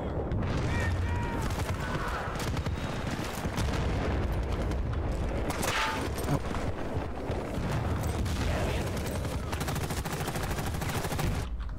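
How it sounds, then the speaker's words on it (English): Explosions and gunfire from Battlefield: Bad Company 2, with Gustav, RPG-7 and M136 launchers in use, form a loud, dense, continuous barrage of booms and shots across the whole stretch, with a voice talking underneath. "Shit's exploding."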